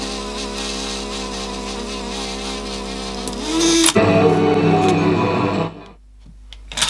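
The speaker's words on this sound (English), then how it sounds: "we've got some horrible noise in the idler assembly." The idler assembly of a rusty Clarion car cassette deck gives off a steady whining, buzzing mechanical noise. About halfway through, a clunk changes the tone to a rougher rattle, which then cuts out, followed by a few small clicks.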